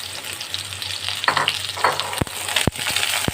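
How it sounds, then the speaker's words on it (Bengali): Ridge gourd pieces and potatoes fry in a hot pan with a steady broadband sizzle, broken by a few sharp stirring clacks near the end; no one speaks. "এগুলো আলুর সাথে আমি আবার একটু ভেজে নেব"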